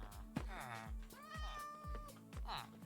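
A cat in a video game gives a few drawn-out meows in quick succession, heard close and clear, while a soft low pulsing sound repeats beneath.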